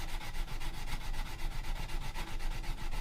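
Folded sandpaper rubs against a knife handle in quick, even back-and-forth strokes, a soft rhythmic scratchy hiss repeating steadily and close by.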